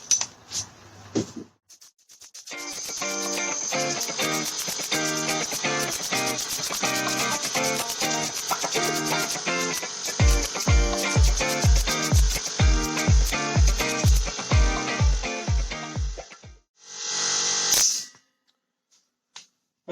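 Schutz underbody coating sprayed onto the welded rear wheel arches of a Citroen Saxo VTS, a loud continuous hissing spray with rapid pulsing bursts toward the end and a short final blast.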